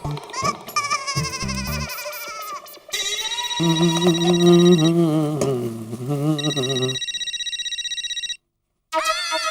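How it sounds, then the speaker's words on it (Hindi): A telephone's melodic ringtone plays in repeating tonal bursts, preceded by voices talking in Hindi, with a short gap before the ring resumes. "जेठालाल का फोन।"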